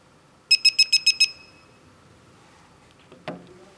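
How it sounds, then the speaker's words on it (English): An RS PinPointer metal detector switching off gives six short, evenly spaced electronic beeps in quick succession. They are close and clear, followed by near silence and a faint handling click. "The device will produce 6 short beeps and turn off."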